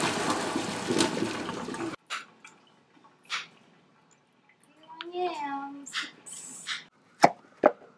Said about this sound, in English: Now we're going to drain these yams.